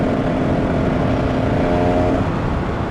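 Low-revving KTM 300 EXC supermotard two-stroke motorcycle cruising at around 100 km/h, a steady, loud engine hum with a slight pitch shift near the end, mixed with constant road and wind rush.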